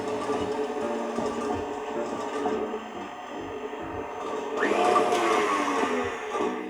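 Electric stand mixer whirring with a balloon whisk attached during a quick test run, a steady mechanical drone that swells louder near the end.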